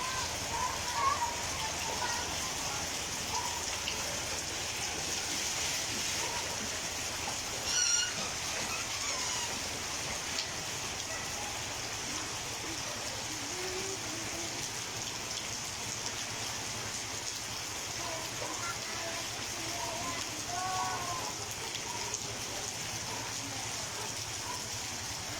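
Rain falls steadily, a constant close hiss of drops pattering on surfaces that lasts throughout, with faint distant voices occasionally breaking through.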